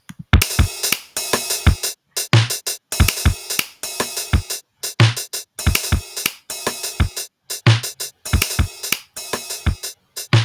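A freshly generated beat pattern loops in the Gigaloff sequencer, its punchy kicks and bright hi-hats and snares repeating in a steady two-bar cycle, loud and alone.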